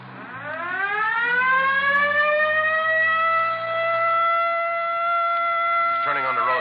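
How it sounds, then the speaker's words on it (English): A police car siren in a 1950s radio drama winds up from low to a high sustained wail and holds steady for several seconds, loud and close, with no voices over it. "Better hit the siren."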